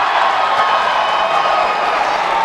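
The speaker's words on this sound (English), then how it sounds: "The Hilltopper crowd loves that." A basketball crowd of Hilltopper fans cheering in a gym, a dense, loud, continuous roar of voices and clapping filling the whole moment.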